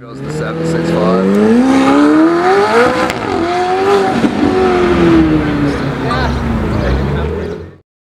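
A McLaren 765 drives past close by, its loud engine note climbing in pitch, peaking, then sliding lower as it moves away over several seconds.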